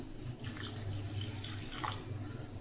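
Water pours into a pot of rice as it boils, making a continuous close splashing and gurgling stream with a few drips, and no talking.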